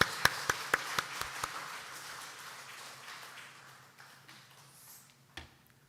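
A church congregation at a Sunday morning service applauds to welcome a preacher. A run of sharp, evenly spaced claps opens the applause, which then thins into a faint patter and fades out.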